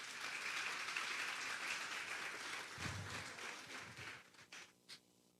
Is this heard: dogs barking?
no